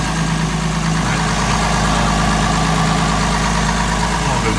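A 1971 Mercedes-Benz 280SL engine idles steadily and close by with a continuous low, even rumble, carrying a slight top-end noise while still cold.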